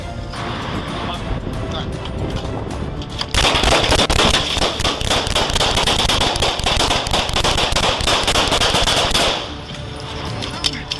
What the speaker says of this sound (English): As they ordered him out, Bryan drew a Glock and opened fire.